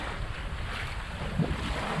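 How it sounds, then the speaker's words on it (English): Wind gusting over a bay beside an anchored sailboat, a broad rushing noise with microphone buffeting and water lapping, steady and close, with no one speaking. "This wind is actually starting to pick up slightly as I'm filming this"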